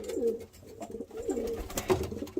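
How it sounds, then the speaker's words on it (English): Pigeons in a breeding loft of high-flyer birds coo in low, repeated rolling calls, several overlapping throughout, close and steady with no talk. "we've still got quite a few birds out here as well"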